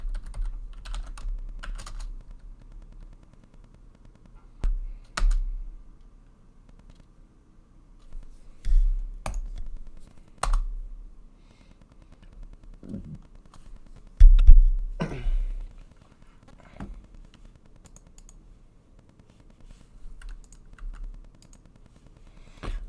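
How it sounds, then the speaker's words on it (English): A password is typed on a computer keyboard in short bursts of close, crisp key clicks separated by quiet pauses, with a faint hum underneath and no talking. "and then type in the password"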